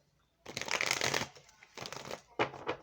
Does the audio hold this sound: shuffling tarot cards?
yes